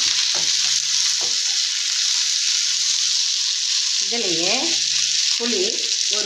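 Small shallots and tomatoes sautéing in a pan as a base for crab fry, giving a steady broad sizzle with occasional scraping stir sounds and brief tonal clatter near the end, close and continuous.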